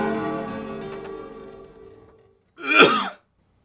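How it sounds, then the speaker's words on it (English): A sustained tone fades out, then after a short silence comes a single sharp, forced cough up close. "That was a fake cough, I'm actually fine."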